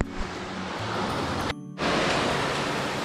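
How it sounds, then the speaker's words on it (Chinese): Mountain stream on the Tai Shing Stream hiking trail in Hong Kong, water flowing steadily down from above toward a waterfall pool: a close, dense rushing hiss with a brief gap, no voices. "啲水流不定不停咁喺上边流落嚟啊"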